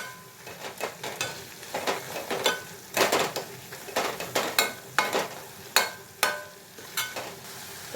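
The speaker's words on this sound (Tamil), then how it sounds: "நல்லா வெந்ததும் அப்படியே நல்லா மசிச்சு விட்டுருலாம்" A spoon stirs and mashes cooked tomatoes in a pan for tomato chutney. It makes repeated irregular scraping and clinking strokes over a soft sizzle, close and moderately loud, with no talk.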